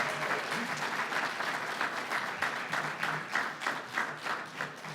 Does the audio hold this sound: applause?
yes